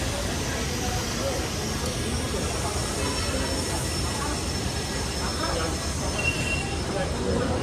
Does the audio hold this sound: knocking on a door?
no